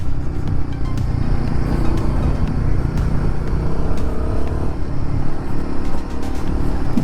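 A Royal Enfield Guerrilla 450 motorcycle on normal road tires hums in a steady low engine rumble with wind noise as it rides along a road, continuous and fairly loud throughout.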